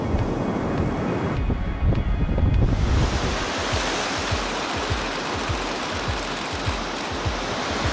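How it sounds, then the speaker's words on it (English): Ocean waves roll onto the Iceland coast in steady, loud surf, with strong wind buffeting the microphone throughout and repeated low thumps as the sets break close by. "We've got great sets of waves rolling in."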